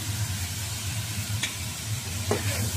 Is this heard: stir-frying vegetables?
yes